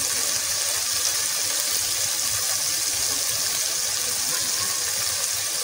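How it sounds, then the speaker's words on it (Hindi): Water squeezed from pumpkin being poured into a cooking pot of spiced kofta curry, a steady gushing hiss that continues unbroken and fairly loud throughout. "और अब इसमें हम वही पानी जो हमने कद्दू से निकाला हुआ है वही पानी डाल देंगे"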